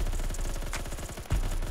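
Colt SMG gunfire in Phantom Forces, a sustained close-range automatic burst of rapid, evenly spaced shots, loud and unbroken, with a slightly heavier report near the end.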